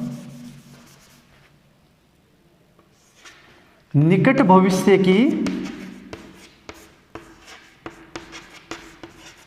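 Marker or chalk writing on a board during an English grammar lesson, heard as short scratchy strokes and light taps. A teacher's voice speaks loudly in the middle, and a rhythmic run of strokes follows at the end.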